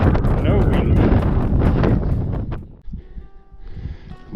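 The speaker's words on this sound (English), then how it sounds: "the moment we reached the top, the wind started" Strong gusting wind buffets the microphone at the summit of the Swartberg mountain pass, loud and roaring for a few seconds before easing into quieter rustling.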